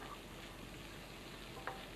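Prawns and vegetables sizzle steadily in a hot pan during Indonesian stir-frying, a continuous close hiss with a brief scrape of stirring.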